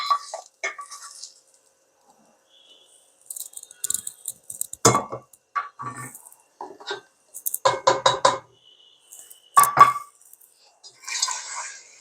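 Kitchen clatter as a cooking pot is swapped and beef kala bhuna is poured in, with scattered clinks, knocks and scraping bursts separated by quiet gaps, close by.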